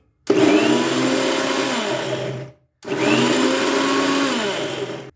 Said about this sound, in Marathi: आता याला आपण मिक्सरमधून काढूयात